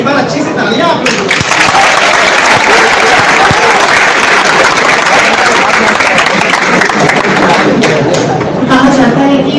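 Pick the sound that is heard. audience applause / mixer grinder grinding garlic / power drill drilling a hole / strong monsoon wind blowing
audience applause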